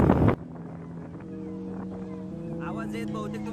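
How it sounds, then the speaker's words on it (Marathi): Outdoor wind buffeting a microphone, starting with a short, loud rumbling gust, then settling into a lower, steady blustery noise with faint voices underneath. "तुम्हाला थोडा वाऱ्याचा आवाज येत असेल."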